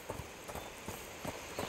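Horses clip-clop over ground in the video game A Plague Tale: Requiem, a steady run of soft hoof knocks beneath a constant hiss of background ambience.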